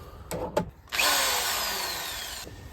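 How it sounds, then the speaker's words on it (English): A couple of short trigger pulses, then a power drill whirs steadily for about a second and a half, close and loud, drilling a pilot hole during a camper van diesel heater install, before stopping. "I'm just going to use the power drill."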